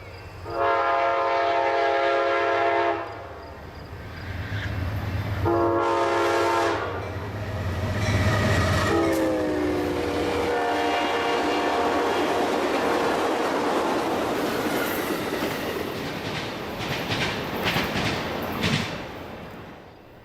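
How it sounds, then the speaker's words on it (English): An Amtrak 40th anniversary exhibit train passes at track speed through Parma, Michigan, on an evening run. A loud horn sounds in several long blasts over the steady roar and rumble of cars rolling by at close range. "we caught the train at track speed in Parma, Michigan, as it made its way to Jackson."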